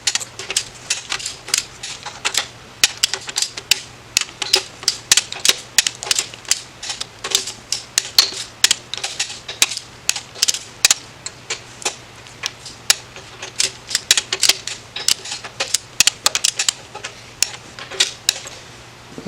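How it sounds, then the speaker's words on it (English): A torque wrench tightens engine bolts on a rebuilt Chevy 327, making dense, rapid, irregular ratcheting clicks that run steadily throughout, close and crisp over a faint low hum, with no talking. "We'll get these all run in here, and then we will start torquing them down."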